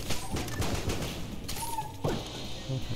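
Rapid gunfire from a fast gun in the video game Enter the Gungeon, a dense crackling burst of shots running almost continuously with a few louder hits and a brief mechanical sound near the end, with no talk.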